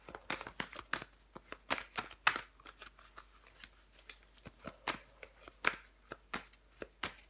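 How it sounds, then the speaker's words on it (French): Tarot cards being handled and laid out during a reading, a run of soft, crisp slaps and flicks at an irregular rhythm, close and fairly quiet, with no voice over them. "Je vais recouvrir des cartes."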